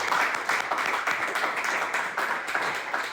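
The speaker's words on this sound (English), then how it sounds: "please give a round of applause for panel member." An audience at a real estate investors' meeting applauds a panel member, a close, sustained round of clapping with regular surges in intensity and no talking over it.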